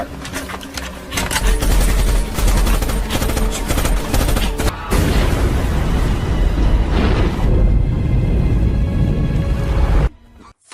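A fierce battle in an action movie brings sustained heavy gunfire, with dense machine-gun bursts and booming blasts rolling for about ten seconds before cutting off abruptly.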